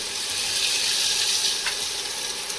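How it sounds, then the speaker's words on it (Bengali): Onions fry in hot oil with salt as the base for a pepper chicken dish, making a steady, close, even sizzle that holds without a break for the whole short stretch. "তেলটা আমার গরম হয়ে গেছে, পেঁয়াজগুলো ছেড়ে দেবো। পেঁয়াজগুলো একটু নাড়াচাড়া করে নেবো"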